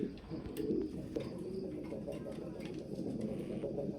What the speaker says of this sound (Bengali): দুইটাই একদম টপ কোয়ালিটির কবুতর ভাই